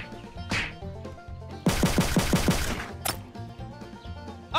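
Rapid burst of gunfire in a Wild West video game, about six sharp shots in quick succession near the middle, set against looping background music.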